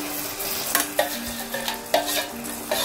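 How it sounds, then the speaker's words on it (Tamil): Caramel is poured and stirred into a pot of vermicelli payasam, giving a steady scraping swirl with a few sharper clinks of the spoon against the pan, close and alone. "பாருங்க, நம்ம கேரமலை சேர்த்துடலாம்."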